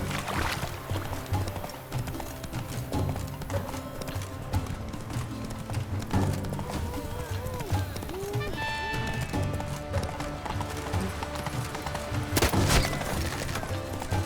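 Rhythmic clip-clop of a horse's hooves from The Witcher 3, steady and close under background music and game ambience, with a brief whinny partway through.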